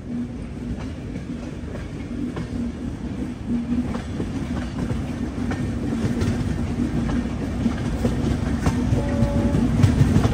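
The Visakhapatnam–Mahabubnagar Superfast Express rumbles very slowly along the tracks near Malkajgiri, with a low continuous drone and faint rhythmic clacks, growing slightly louder over time, heard from inside a carriage.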